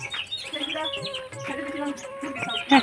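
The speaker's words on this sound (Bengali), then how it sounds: "দেখো 28টা মুরগির বাচ্চা কিনে আনছে" Chirping from a batch of twenty-eight young chicken chicks kept at home: thin, high peeping calls repeat in quick overlapping bursts at close range, with a brief louder peep near the end and faint voices in the background.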